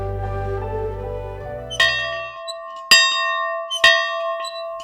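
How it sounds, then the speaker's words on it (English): A hand-rung school bell at a little rural one-room schoolhouse gives three clear, ringing strikes about a second apart, each leaving a long decaying tone, after a low rumble fades out at the start. "Nanny Gilbert rang the school bell and called her class into the little school"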